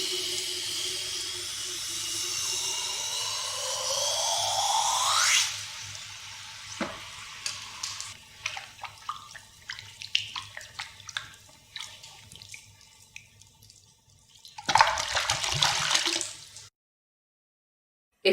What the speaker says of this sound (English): After that, we dip the piece into water.